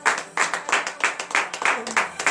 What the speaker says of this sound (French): Veuillez donner de vive acclamation à notre Seigneur Jésus